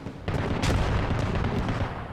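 A grenade explodes in a military shooter video game, a sharp heavy boom followed by a rumbling blast and scattered gunfire-like cracks, loud and close.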